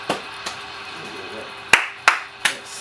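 A studio audience at a radio station gives a few scattered claps, first faint and then louder in three sharp bursts, with no sustained cheering.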